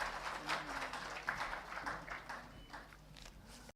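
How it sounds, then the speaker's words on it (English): An audience applauds at the inauguration of the Indian Publishers Conference, a steady, fairly distant wash of clapping hands that lasts several seconds before cutting off abruptly. "Please welcome with a round of applause."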